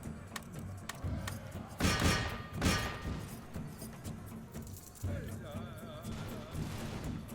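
Dragoons loose a musket volley in an American Revolution battle game: two sharp, crackling bursts of massed fire stand out near the start, followed by rumbling battle noise and a voice talking.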